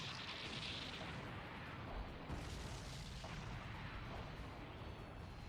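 Over-the-top explosions from an SD Gundam Cross Rays mech battle animation, a steady rumbling wash of blasts and booms, fairly faint and continuous with no talking.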